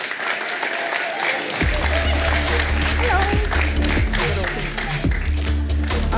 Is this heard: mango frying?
no